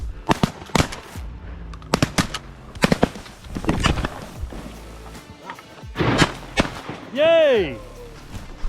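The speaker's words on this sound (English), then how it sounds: "Let's shoot him, guys." Shotgun blasts fired at mallard ducks on a remote mountain river during a late-season duck hunt, several sharp loud reports spread across the clip with hunters talking and calling between shots.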